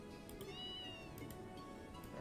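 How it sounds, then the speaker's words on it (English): A cat in the Trails in the Sky video game meows softly, with a couple of quiet, rising-and-falling mews set against a low, steady ambient hum. "Cat."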